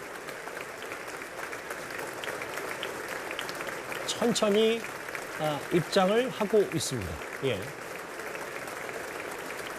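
Members of the US Congress applaud President Yoon's entry into a joint session, continuous crowd clapping forming a steady backdrop while a Korean news commentator speaks over it.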